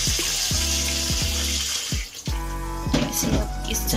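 Tap water runs and splashes in a sink while chana dal is rinsed, a loud steady gush broken by a few brief knocks and pauses, with no talking.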